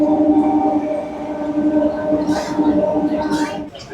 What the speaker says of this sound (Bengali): এই যে মালগাড়ি চলে যাচ্ছে, দেখতে পাচ্ছেন, অনেক বড় একটা মালগাড়ি।